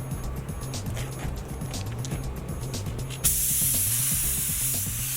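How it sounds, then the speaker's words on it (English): A spray gun hisses steadily while laying primer over a car body in a repair shop, a broad continuous spray that grows brighter and louder partway through, with faint mechanical hum underneath. "spraying over the repaired areas, then he'll do an overall spray of the body."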